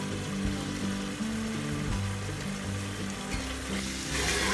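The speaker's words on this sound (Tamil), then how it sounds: "இந்த நல்ல ஃப்ரை ஆயிடுச்சு." Whole spices, cinnamon, cloves and pepper, fry in hot oil for a beef curry, giving a steady close sizzle with bubbling crackle throughout that grows a little brighter at the end. No one speaks.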